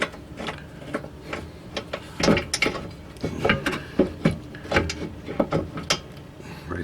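Metal clicks and ratcheting taps from a bolt being pushed into place on a 2008 Saturn Vue rear brake caliper, an irregular series of sharp close clicks and knocks with brief gaps between them.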